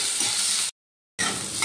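Pointed gourd (potol) pieces fry in hot oil with a bright, continuous close-up sizzle, interrupted by a short silent gap before the crackling resumes.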